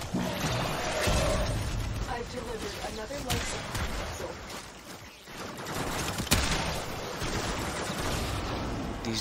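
Turret gunfire in the Warframe video game: dense, continuous rapid bursts of shots layered with mechanical game effects, loud and sustained throughout, with players talking over it.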